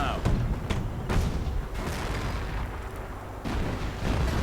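Artillery exchange in a World War II real-time strategy game with Fireflies and flak guns, heavy booms and thuds landing in quick succession under a commentator's voice.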